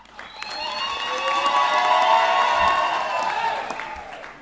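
Loud audience applause with cheers and whoops at a university graduation ceremony, swelling to a peak midway and fading slightly toward the end, with the crowd's voices mixed into the sustained clapping.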